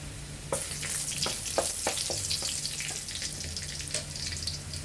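Chopped onion hitting a hot pan for a shrimp and hilsa mash, a sudden burst of loud sizzling followed by a steady frying hiss with occasional stirring scrapes.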